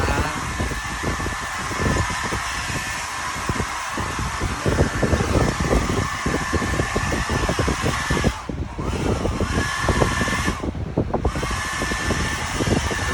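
A blower fan runs with a continuous whooshing roar and a steady high whine, loud and close, with brief dips in the hiss partway through.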